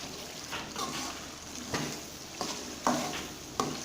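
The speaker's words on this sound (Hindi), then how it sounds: "अभी इसको अच्छी तरीके से मिक्स करेंगे।" Meat with crushed garlic and ginger being mixed in a pot, with soft, quiet stirring scrapes and a few light utensil taps over a faint sizzle.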